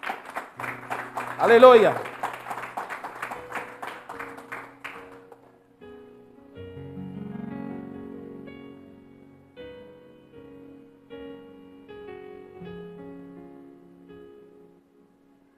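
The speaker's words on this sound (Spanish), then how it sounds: "Dale un aplauso a que vive y reina." Church congregation claps during a sermon, with a brief burst of clapping and a voice calling out over it, before the hall settles into soft, sustained organ-like tones.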